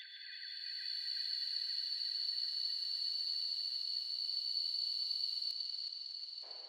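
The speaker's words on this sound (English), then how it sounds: "grab this little bug atmosphere sound. It just sounds like nature" A steady, high-pitched insect chorus like buzzing crickets drones on at moderate volume, sustained and even, sent through a large delay, with a faint echoing tail before it cuts off.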